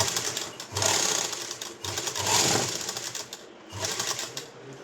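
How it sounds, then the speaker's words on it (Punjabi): A sewing machine stitches a fabric strip along a back neckline in three close, steady whirring runs separated by short pauses. "ਲੀਰ ਦੇ ਆਪਾਂ ਬਿਲਕੁਲ ਕੰਨੀ ਕੰਨੀ ਤੇ ਨਾਲ ਨਾਲ ਸੀਨ ਲਾਉਣੀ ਹੈ ਇਸ ਤਰ੍ਹਾਂ"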